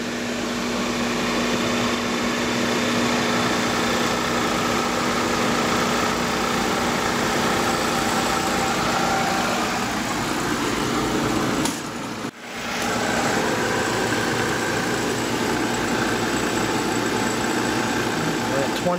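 Refrigerant recovery machine running steadily during an HVAC evaporator coil and condenser changeout, a loud continuous motor hum and whir that carries on for the whole stretch, with a brief dip partway through.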